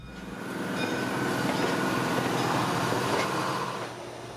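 Vintage steam excursion train led by Pacific 4-6-2 locomotive number 425, heard as a steady, loud rumbling rail roar that swells and holds throughout, with no voices.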